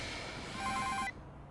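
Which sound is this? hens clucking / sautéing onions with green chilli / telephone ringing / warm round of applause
telephone ringing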